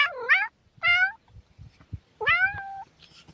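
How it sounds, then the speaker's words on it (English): Cats up on a roof give loud, close meows, three drawn-out calls with pauses between them and faint shuffling noises in the gaps. "Did cats go up on your roof?"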